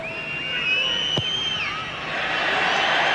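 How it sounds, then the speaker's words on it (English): A rugby crowd at a 1991 Rugby World Cup match swells into a broad, distant roar that builds steadily toward the end, beneath and alongside tonal whistles and commentary. "Crowd starts to roar."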